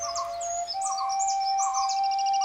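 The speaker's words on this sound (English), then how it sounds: "starting with the songs of the Malabar whistling thrush, singing well before sunrise with its wonderful whistles" Malabar whistling thrush sings in the forest before sunrise, a sequence of clear, rising and falling whistled phrases over a thin steady tone, fairly close and unaccompanied by speech.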